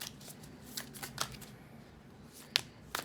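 Oracle cards being shuffled by hand, soft riffles and brief crisp snaps at irregular intervals, close and quiet over a low room hum.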